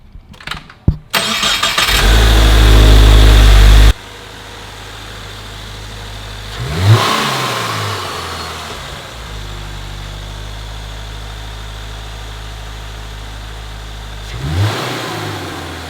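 A 2022 Subaru WRX fitted with an ETS intake starts up and idles, then the turbocharged engine gives sharp revs that rise and fall over a steady idle, heard close and loud.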